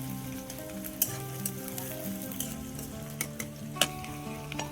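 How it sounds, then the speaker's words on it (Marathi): Lengthwise-sliced onion sautéing in a pan for poha, giving a soft, steady sizzle with scattered light ticks and clinks from stirring over a faint tonal hum, with no one speaking. "मस्त त्याला आता चांगला फिरव फारव करून घेऊ, म्हणजे परतून घेऊ"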